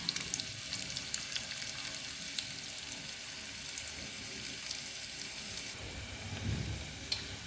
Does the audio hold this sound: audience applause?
no